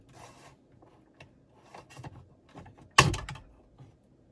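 A plastic trim panel in a Mercedes-Benz C-Class is pulled out by hand, with faint rubbing and creaking that ends in one sharp, loud pop as the panel comes free. A few soft scrapes follow.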